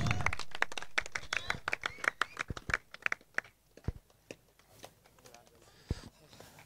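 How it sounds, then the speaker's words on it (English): A small crowd at a T20 cricket league match applauds the team captain with sparse, uneven clapping. Individual sharp hand claps ring out close by, thin out and fade, with only a few scattered claps near the end. "Can we give him a big round of applause?"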